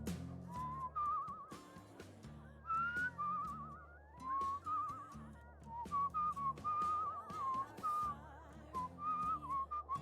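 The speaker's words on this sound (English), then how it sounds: "Really weird having him whistle the tune while she's playing it." In the video game Where the Water Tastes Like Wine, a character whistles a wandering melodic tune, clear and steady for the full stretch over a soft plucked musical backing, with no talking.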